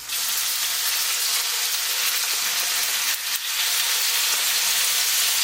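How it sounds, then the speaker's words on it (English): Pieces of baccalà fry on top of onions in a pan, giving a loud, dense, continuous sizzle close up with a brief dip partway through. "I think it's the right moment to put the fish in, like that, on top of the onions, so it won't stuck at the bottom"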